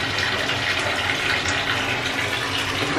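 Bathtub filling from a running tap, likely in a cruise-ship cabin: a steady, close hiss of water pouring into the tub with no break across the whole stretch and no voices.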